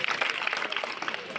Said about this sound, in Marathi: जोराने टाळ्या लावून स्वागत करायचं